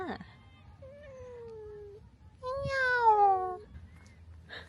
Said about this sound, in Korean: 아니 여기 고양이가 숨어 있었잖아.